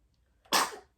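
One sudden sneeze bursts out after near silence, close and loud, a sharp noisy blast that fades over a fraction of a second with no talk around it.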